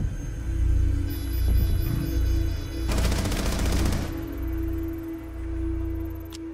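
Rainbow Six Siege team deathmatch on the Villa map: a single rapid burst of automatic gunfire lasts about a second over a steady low game hum, with faint shots scattered before it.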